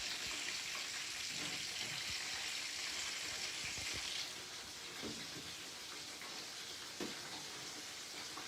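Gentle sizzling of beef meatballs frying in a pan over moderate heat, a soft steady crackle that drops slightly partway through, with a few light clinks.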